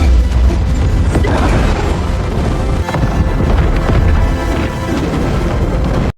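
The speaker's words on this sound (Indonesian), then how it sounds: "Kemudian dia pergi membawa Victoria dan meledakkan diri bersamanya. Terlihat ledakan itu sangat dahsyat" A massive explosion from the 2023 film Blue Beetle tears through a research facility on an island, a loud, dense continuous roar of booming rumble and crashing debris sustained for several seconds before cutting off abruptly.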